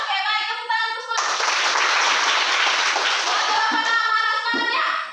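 A school class bursts into applause during a lesson; a burst of children's clapping fills the middle of the clip, with young voices speaking and calling out before and after it.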